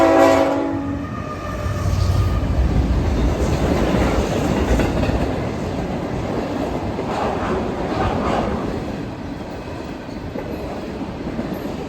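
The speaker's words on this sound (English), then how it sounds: "L502 is a mixed freight that goes from Sarnia, Ontario to Garnet, Ontario" A short CN mixed freight train running from Sarnia to Garnet, Ontario passes close by, its horn sounding at the start over the steady rumble and clatter of rail cars rolling past, with no voices.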